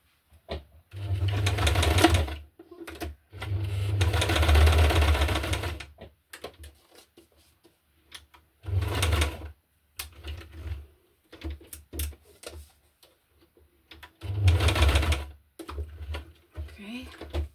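A sewing machine stitches a butterfly onto a thick journal card in repeated bursts of rapid mechanical whirring, separated by short pauses, recorded close up.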